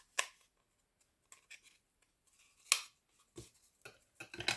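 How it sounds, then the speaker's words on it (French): Curved nail scissors snip into a cardboard toilet paper roll, giving a few short, crisp cuts at irregular intervals, close and fairly quiet, with brief pauses between snips and no talking. "Mes ciseaux à ongles qui sont déjà courbés"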